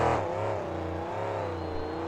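A monster truck engine at low RPM on a dirt course in Tacoma, Washington, a steady low droning rumble that holds fairly even and moderately loud, with a faint whirring overtone.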